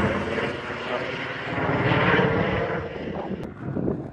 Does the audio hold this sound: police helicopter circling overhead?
yes